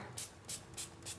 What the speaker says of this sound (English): I might need to spray it just a little bit more.